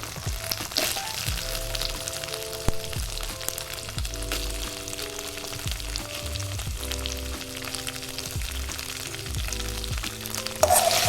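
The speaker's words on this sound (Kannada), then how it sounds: "ಅದ್ರ ಜೊತೆಗೆ ಈರುಳ್ಳಿಯನ್ನು ಮಿಕ್ಸ್ ಮಾಡಿ ಫ್ರೈ ಮಾಡ್ಕೊಳ್ಳಿ" Onions sizzle steadily in a hot pan while being fried for a home-style chicken gravy, with occasional stirring scrapes and clicks over the continuous close crackle and no voices.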